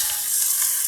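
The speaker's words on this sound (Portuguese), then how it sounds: "aqui eu estou dourando novamente a minha cebola" Onion browning in a hot pan for shiitake risotto gives a steady, close sizzle of frying with a continuous bright hiss, no voices over it.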